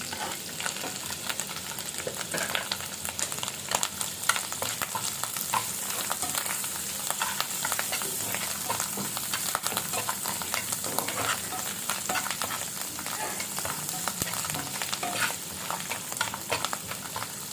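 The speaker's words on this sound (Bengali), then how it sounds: "এখন দিয়ে দিতে হবে মাশরুম সব মাশরুম" Mushrooms fry in a pan with a steady, loud sizzle while being stirred, with scraping stir sounds running throughout and no talk.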